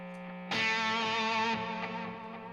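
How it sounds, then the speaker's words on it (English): Delay and reverb trails ringing out from an effects pedal after a struck guitar chord, the bright sustained tone swelling in and then decaying gradually over a couple of seconds, with no talking. "If you want to kick off the delay and verb at the same time, we can listen to the trails ring out"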